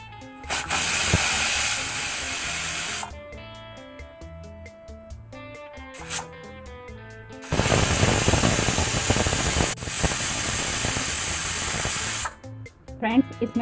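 A pressure cooker on a gas stove, cooking rajma, vents steam in loud, sustained hissing bursts, with short pauses and clicks between them.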